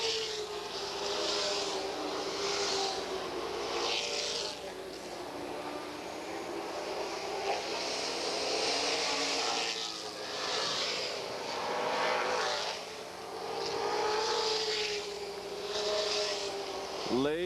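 Several NASCAR race cars roar past on the Asheville track, a continuous loud engine drone that swells and fades as the pack passes. A race announcer talks throughout.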